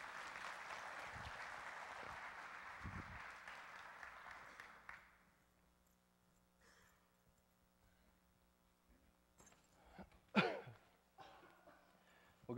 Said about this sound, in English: Let's give them a round of applause as they come up and share their story